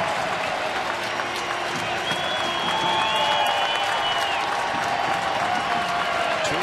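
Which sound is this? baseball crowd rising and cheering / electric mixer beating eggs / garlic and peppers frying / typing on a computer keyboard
baseball crowd rising and cheering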